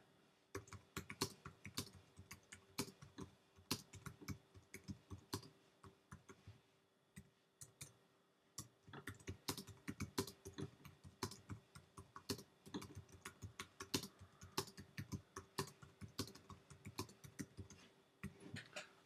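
Rapid typing on a computer keyboard while writing content in a visual text editor. Dense, close key clicks run in steady flurries with a short pause partway through, and no voice is heard.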